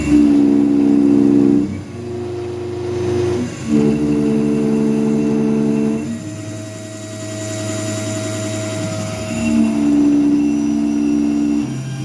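An MR-1 CNC mill pushed to a high feed rate cuts a steel part with its spindle near 8,000 RPM. A loud, rough mechanical drone shifts pitch in distinct steps and briefly drops away between passes, as the machine shakes.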